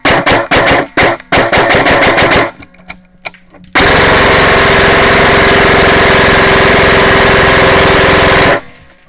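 Bursts of automatic airsoft fire from an SSR 15 loaded with tracer BBs: a rapid clattering string of shots, a brief pause, then a long sustained loud burst running several seconds before cutting off.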